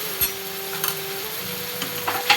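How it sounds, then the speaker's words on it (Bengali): Chhana mixture with onion, chilli and ginger paste is stirred in a hot pan: a brief burst of close sizzling with a few scraping spoon strokes and no talking. "এবার নেড়ে নিচ্ছি"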